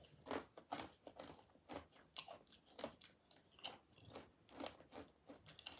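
Freshly cooked banana chips bitten and chewed up close, a quick irregular series of sharp crisp crunches and crackles, fairly faint with no talk over them.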